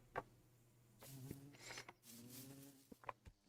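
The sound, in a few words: bees buzzing near a hive in a video game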